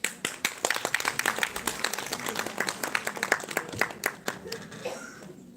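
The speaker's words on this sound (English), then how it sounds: "So with a big round of applause, we welcome Ms. Kirti." An audience at a live spring festival event claps in welcome, a moderate, fairly steady round of applause from many hands that thins out toward the end.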